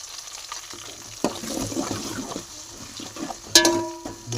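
Tomato pieces frying for beetroot curry: a soft crackling sizzle that starts after a brief quiet moment, with light stirring, and a short metallic clink near the end.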